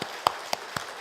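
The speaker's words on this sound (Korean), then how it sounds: "박수 한번 쳐주세요." Three sharp hand claps in a church service, evenly spaced about a quarter second apart, fairly quiet over a faint background hiss.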